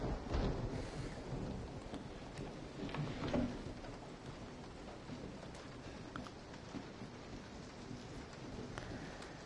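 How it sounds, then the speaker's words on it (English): Steady rain hiss pours down in the horror game Resident Evil VR, with low rumbles of thunder rolling through early on, all fairly faint and with nobody talking. "Oh, it's raining now, is it?"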